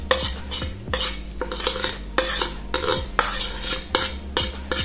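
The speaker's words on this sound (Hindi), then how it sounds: "तो ये देखिए इस तरीके से ये सारी चीज़ें इसमें मिक्स हो गई अच्छे से" A spoon stirs chopped vegetables into a breakfast batter in a bowl, loud and close, with repeated metallic scrapes and knocks against the bowl in a quick, uneven rhythm and no voices.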